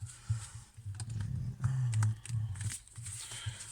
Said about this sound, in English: I'm gonna shuffle very good right now